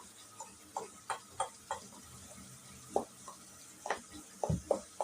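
Quiet scraping and clinking of a utensil working through a banana split dessert mixture in a bowl, in short irregular strokes with brief pauses.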